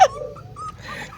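Puppies whimper and give small yips at close range, a short high whine followed by a few thin cries over a low background murmur.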